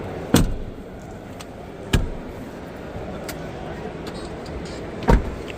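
A Toyota Veloz Q Hybrid car door opens and shuts as someone climbs out, giving a few sharp clunks and clicks spread over several seconds against a steady low interior hum.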